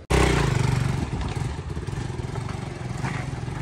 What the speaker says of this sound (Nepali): यसको साइलेन्सरको यो आवाज अलिक भ्यार भ्यार भ्यार आइरह क्या लिकेज भइरहेछ।